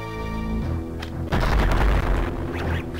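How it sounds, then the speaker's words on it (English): A power bomb detonates in Metroid Fusion, with a sudden deep booming blast that cuts over a steady synth music tone and rumbles on for over a second before fading back under the music. "Power bomb this way."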